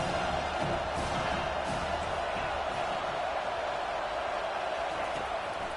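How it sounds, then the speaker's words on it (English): Home crowd at a football game cheering, a broad sustained roar filling the stadium with a loud commentator voice talking over it. "Here comes his home crowd"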